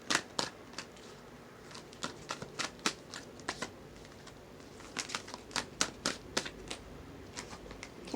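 Tarot cards riffle and snap in quick bursts of crisp, close shuffling, repeated several times in an uneven rhythm.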